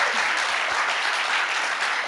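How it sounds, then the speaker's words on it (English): Audience applause for girls who competed at a state tournament, a steady, dense clapping that fills the room without pause for a couple of seconds. "Can we give them a round of applause for that?"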